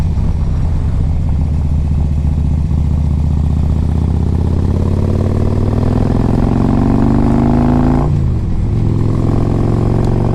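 A 2005 Harley-Davidson Electra Glide Classic with a 1550 big bore kit cruises on the road with a steady, loud, droning engine note. It rises in pitch as the bike speeds up, then drops sharply at a gear change.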